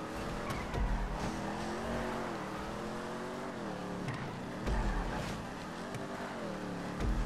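Race cars in GTA 5 Online roar continuously with revving engines and shifting gear pitch, swelling at moments with bursts of acceleration and tire noise, loud and steady throughout.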